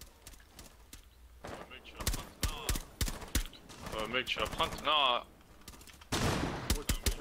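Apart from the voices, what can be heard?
gunfire in a Rainbow Six video game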